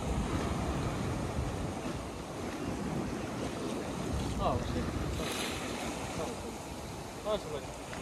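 Rough sea surf at a fishing shore makes a continuous wash of crashing waves mixed with strong wind buffeting the microphone, with faint voices in the background.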